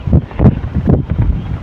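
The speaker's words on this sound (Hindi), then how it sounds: "बहुत तेज़ हवा चल रही है।" Strong wind blowing outdoors at Kabir Ashram in Surat, loud buffeting gusts pulsing against the microphone in quick uneven bursts.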